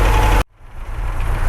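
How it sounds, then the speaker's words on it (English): A 1972 MG MGB engine with SU carburettors idles roughly, a steady low rumble that cuts out briefly and then returns, close and loud with no talking. "It's still not idling very smoothly"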